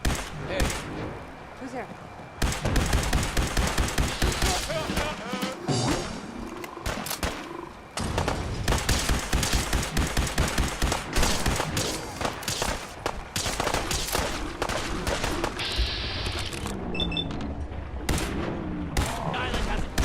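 Heavy battle gunfire in Fallout 4's Far Harbor, fighting in thick fog: dense, continuous volleys of rapid shots packed close together, loud and sustained throughout, with a brief spoken line partway through.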